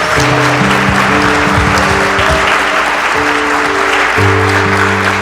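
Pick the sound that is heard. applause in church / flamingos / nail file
applause in church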